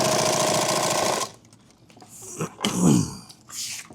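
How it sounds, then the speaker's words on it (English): A sewing machine stitches reinforcing pieces onto a mini kit bag, running loud and steady for just over a second, then stopping. Quieter handling and rustling sounds follow. "So I sew these on first."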